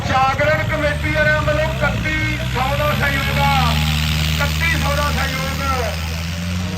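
A New Holland 3630 tractor engine at a tractor competition idles with revs dropping, a steady low rumble running continuously beneath loud amplified announcer speech.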